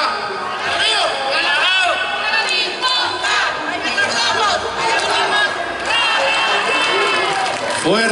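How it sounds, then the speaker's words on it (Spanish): A lively outdoor community crowd in San Mateo Cuautepec cheers, chants and claps together, a loud, sustained mix of shouting voices and applause at a raffle celebration, with many people calling out at once. "Fuerte ese aplauso, por favor"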